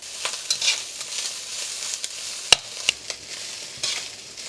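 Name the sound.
Chinese sausage and cured pork stir-frying over medium heat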